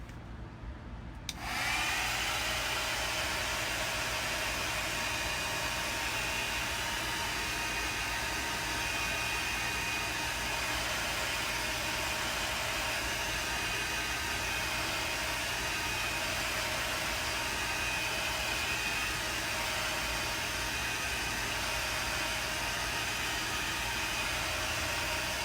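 A hair dryer switches on and blows continuously at close range, a steady, even whoosh drying the centre of a fall-themed painting, running unbroken with no talking.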